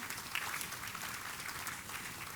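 Steady applause from an audience at a Gujarati literary award ceremony, a continuous wash of clapping that holds at an even level throughout.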